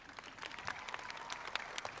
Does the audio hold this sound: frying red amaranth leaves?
no